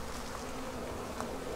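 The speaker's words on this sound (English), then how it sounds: "There's a lot of flights going along on the front here." Honeybees fly busily in front of a hive entrance after part of the colony swarmed, a dense, continuous buzzing hum from many insects close by, with no voices.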